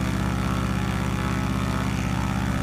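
Steady propeller aircraft engine drone from Microsoft Flight Simulator, a continuous loud hum with strong low harmonics that holds constant and alone throughout.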